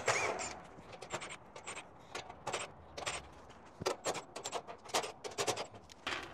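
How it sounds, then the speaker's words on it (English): Quiet, irregular metallic clicks and ticks come close by as screws are backed out of the top cover of an A/C unit, with small tool scrapes and rattles in between and no talking. "we're just gonna go around and take all of the screws out of the top"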